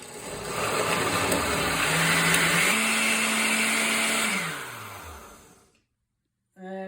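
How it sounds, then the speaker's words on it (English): A blender whirs loudly and steadily, its motor pitch rising and holding, then winding down to silence before a brief restart. "I'll give you a feeling of how it sounds like when you turn on the blender"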